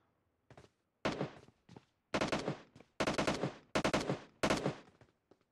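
Gunfire in the mobile battle royale game PUBG Mobile: several sharp bursts of rapid automatic shots in quick clusters, loud and close, separated by short silences.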